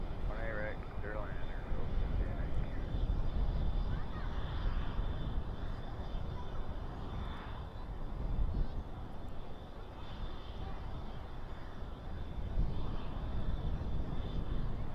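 A steady, low jet rumble from an airplane at Dallas/Fort Worth airport at night, holding fairly even throughout while air traffic control radio voices talk over it.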